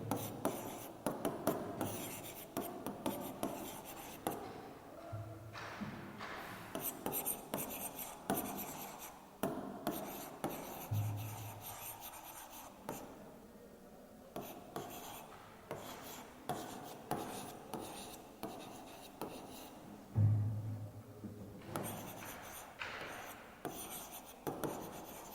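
A pen scratches on paper in short repeated strokes while math working is written out for a class, faint and close, with soft pauses between bursts of writing.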